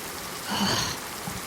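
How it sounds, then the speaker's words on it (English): Heavy rain pours down in a steady, dense wash, swelling briefly louder midway before settling back into a constant downpour with no voices. "You feel the rain pick up even more than what it was previously. It is very loud."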